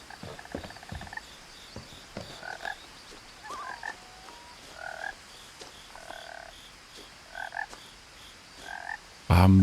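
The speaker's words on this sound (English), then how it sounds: "And lots of frogs, and what is that?" Repeated frog croaks in What Remains of Edith Finch come in short double bursts at irregular intervals over quiet outdoor ambience, ending with a sudden loud thump.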